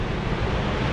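Nevada Fall in Yosemite roars as a continuous, loud rush of falling water, steady and unbroken, with no voices over it.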